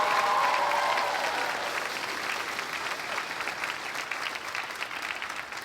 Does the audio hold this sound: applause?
yes